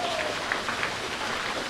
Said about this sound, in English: Everybody give John Broadhead a big round of applause.